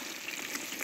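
Carp fish frying in hot oil in a kazan, a steady dense sizzle held close and loud throughout the short moment, with no voices.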